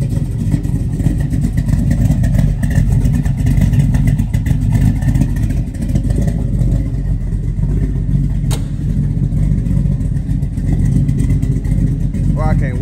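A car engine idles steadily ahead of a dyno tune, a constant low rumble that stays loud and close throughout, with a few faint voices talking nearby.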